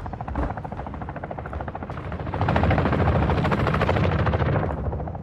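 A helicopter in the video game Call of Duty thumps with rapid, rhythmic rotor beats that grow louder and closer partway through, then ease slightly near the end.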